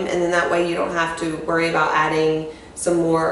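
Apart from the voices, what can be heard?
No everyday noises stand out.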